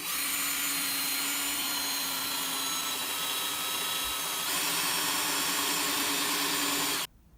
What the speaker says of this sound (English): I'm going to drill a hole in this back corner first